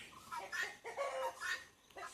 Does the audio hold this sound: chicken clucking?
yes